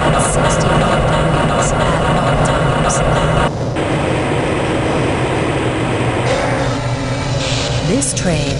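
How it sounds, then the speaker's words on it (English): A Black Mesa transit tram in the video game Half-Life Blue Shift rumbles and rattles steadily along its track while a recorded announcer's voice speaks over the running noise. "This train is inbound from the Area 8 topside dormitories to the central transit hub in Area 9."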